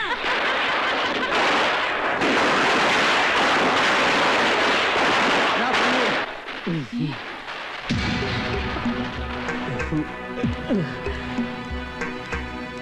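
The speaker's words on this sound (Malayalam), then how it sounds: "പിന്നെ എന്തിനാ ഇപ്പോഴേ പടക്കം പൊട്ടിച്ചേ?" Loud dense crackling bursts of firecrackers fill the first six seconds, then fade into scattered pops under music and voices.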